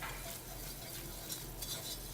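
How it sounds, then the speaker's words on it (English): A whisk scrapes and stirs flour into a pan for macaroni and cheese with pancetta, giving a soft continuous swishing over a faint sizzle, quiet and close with no talking. "we're just going to whisk it all together"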